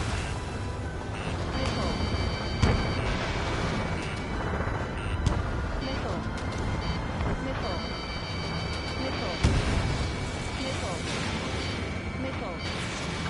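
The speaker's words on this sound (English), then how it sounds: "Strider 3 launching missile." Missile launches and combat explosions from the jet combat video game Ace Combat 7, a dense roar of engines and blasts with several sharp bursts, heard under radio chatter.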